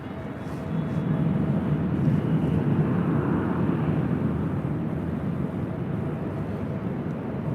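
A Singapore Airlines Airbus A350 takes off from runway 24 left at LAX, heard as a broad, steady jet roar that swells and then holds, somewhat distant and windy, with no talk.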